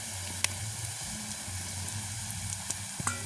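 Spices such as fennel seeds and mustard seeds are stirred and sautéed in a pan over a village cooking fire, with a soft steady sizzle, a low hum and a few sharp clicks of the spoon against the pan.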